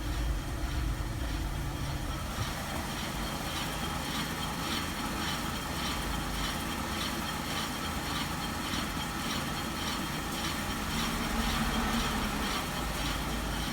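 A 2007-era Mercedes SLK 320 flood car, back together after a valve body reinstall, idles in reverse with a steady low engine drone and a faint rhythmic scrape from rusty brakes repeating throughout.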